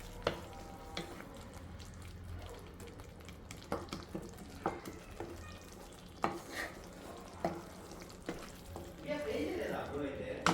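Spices being stirred and fried in oil for a rajma (kidney bean) curry, with scraping stirs and a steady sizzle, and a burst of frying hiss near the end.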